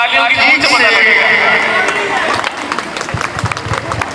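A crowd at a Gujranwala medical college poetry gathering claps loudly, with cheers and murmurs, then thins into scattered individual claps. Talk runs through it.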